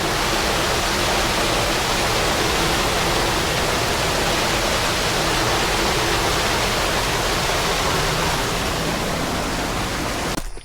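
A steady, loud rush of a waterfall or mountain stream on the trek to Agasthiyar Koodam, continuous and close with no other sounds.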